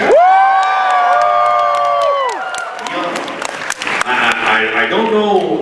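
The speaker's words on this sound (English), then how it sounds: "there's a tremendous outburst of approval from the crowd right now" Crowd at a Megacon 2013 convention panel breaks into loud applause and cheering, with whoops and voices rising over the clapping; a sustained tone sounds over it at first, then the crowd noise takes over.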